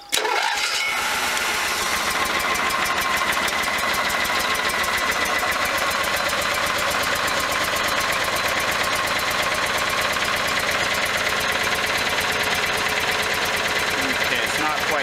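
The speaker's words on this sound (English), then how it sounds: "got the generator running like a champ" An RV's built-in generator in Alaska cranks briefly and catches, then runs at a loud, steady, buzzing drone close by for the rest of the stretch.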